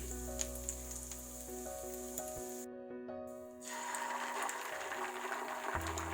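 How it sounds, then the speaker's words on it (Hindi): Garlic frying in a tablespoon of oil for a sauce, a steady close sizzle and crackle running throughout, briefly dropping out partway before resuming. "1 टेबलस्पून मैंने ऑयल डाला है और 1 टेबलस्पून ही लहसुन। इसे हम फ्राई कर लेंगे।"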